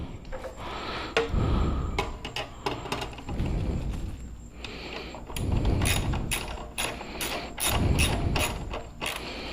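Ratchet tightening a bolt to torque on a motorcycle exhaust, an Akrapovic link pipe and slip-on on a 2020 ZX10R: rapid clicking pawl strokes in repeated bursts, fairly close, with clanks of metal, no talking.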